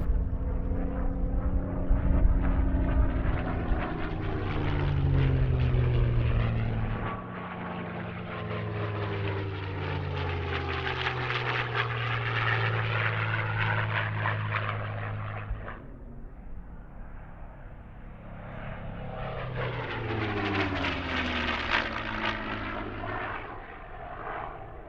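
Supermarine Spitfire WWII fighters fly at a warbirds airshow at Temora, their piston engines droning loudly in repeated passes that swell and fade with sweeping pitch changes.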